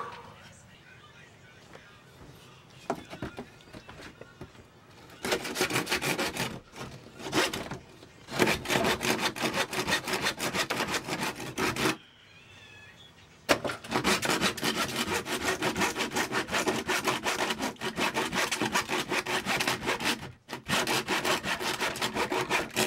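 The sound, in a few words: hand saw cutting fiberglass on an old sailboat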